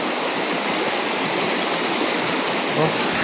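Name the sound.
strong river current flowing over rocks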